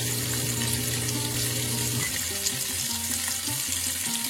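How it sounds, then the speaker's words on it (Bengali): A fish head sizzles in mustard oil in a home kitchen pan, a loud, steady crackling hiss close up, with low hums shifting partway through and no voices. "3 টেবিল স্পুন আমি সর্ষের তেল প্রথমে দিলাম মাছের মাথাটাকে ভাজার জন্য।"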